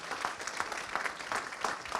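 Audience applause at a business talk, dense and steady from many hands, filling the whole moment without speech.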